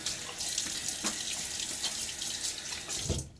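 A water tap runs in a steady, close rush to wet the face before a wet shave, with a few soft splashes from hands in the stream and no talking.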